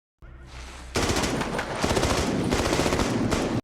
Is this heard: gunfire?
yes